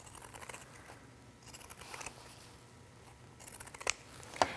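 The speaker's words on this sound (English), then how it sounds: "We'll use our pinking shears and we'll trim around the curves." Pinking shears trim around the curves of sewn fabric for a lined wetbag, giving close, crisp crunching snips in short bursts over a soft background hiss.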